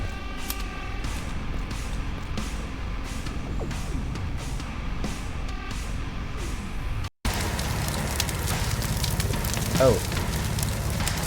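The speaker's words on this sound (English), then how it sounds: "That is on fire." A fire burns in a horror video game, a dense crackling roar that persists throughout, with a brief cut midway and a short exclamation from a person over it.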